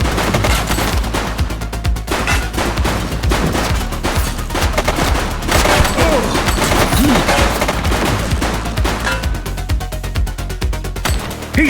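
Rapid bursts of gunfire in the police video game The Precinct, dense and continuous across the whole stretch, loud and close with overlapping shots and echoes.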